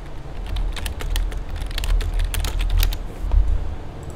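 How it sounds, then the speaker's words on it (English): Quick, irregular keystrokes rattle on a computer keyboard close to the mic during an Elite Dangerous PvP stream, a steady run of clicks over a low background hum. "Sorry, just typing"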